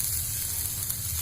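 Grated carrots frying in ghee for gajar halwa, giving a steady close sizzle with a soft crackle throughout and no voices.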